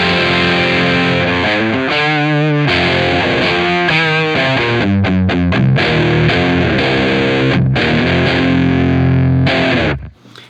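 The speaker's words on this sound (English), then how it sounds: "And that is an overdrive sound." An overdrive tone from a Beetronics Zzombee Filtremulator pedal drives a loud, gritty guitar through a sequence of sustained chords and quick choppy notes, ringing out alone before cutting off at the end.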